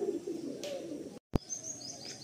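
Slim, straight-bodied pigeons coo and chirp softly in a loft, a steady low murmur broken by a brief dropout and a sharp knock before the cooing resumes.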